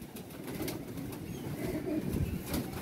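Jaldar pigeon handled up close, with soft rustling and fluttering of feathers and faint low cooing against a quiet background.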